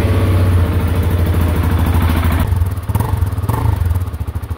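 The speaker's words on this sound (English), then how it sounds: "I want you to hear the stock exhaust sound," A 2024 KTM 690 SMC R single-cylinder motorcycle idles on its quiet stock exhaust, a steady low, even thumping close by that wavers slightly toward the end, with no talking.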